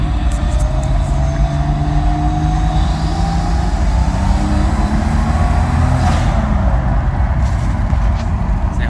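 A Nissan RB25DET engine runs loud and close with blow-through MAFs fitted, holding a steady, rumbling idle with a constant drone that barely changes throughout.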